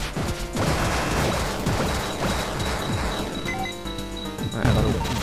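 An enemy shoots in Cave Story+: a rapid fusillade of crashing, cracking shots over a busy game soundtrack, with a heavier impact near the end.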